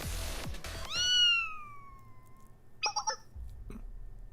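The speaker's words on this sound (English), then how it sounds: "Or maybe a cat crying?" A cat in the video game Blue Archive lets out one long, drawn-out meowing cry that slides downward, followed by a few shorter, choppier cat calls, fairly close and clear with no one talking.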